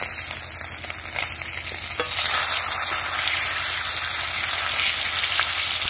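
Fish sizzles steadily in a hot pan at an outdoor riverside cookout, a dense continuous frying hiss that swells slightly louder partway through, with occasional stirring scrapes and no talk.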